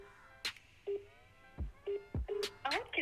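Phone call to a GSM relay controller: a series of short electronic dialing and ringing tones with brief chirps, fairly faint and close, with no talking over them.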